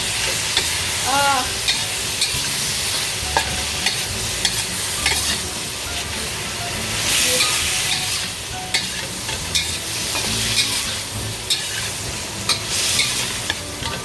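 Teriyaki steak sizzles steadily in sauce on a hibachi-style cooktop at home, with the frying hiss running throughout and brief scraping and clinking as a utensil stirs the meat.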